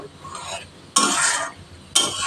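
Spoon stirring a simmering curry in a pot after salt and sugar go in, three distinct scraping sweeps, each a loud close rasp, separated by quieter bubbling, no voices.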